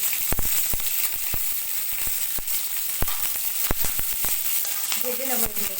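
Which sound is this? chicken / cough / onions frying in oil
onions frying in oil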